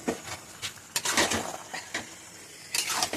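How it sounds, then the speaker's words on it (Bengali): Marinated chicken pieces drop into a cooking pan for mauri chicken, giving a few soft clinks and clatters of utensil against metal and brief bursts of light sizzle, quiet and close. "এবার ম্যারিনেট করা মাংসটা দিয়ে দেবো।"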